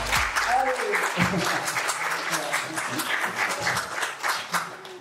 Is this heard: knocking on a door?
no